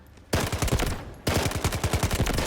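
Rapid automatic fire from an MK47 rifle shot from the hip in the shooter game Delta Force, two loud sustained bursts of evenly spaced shots separated by a short pause.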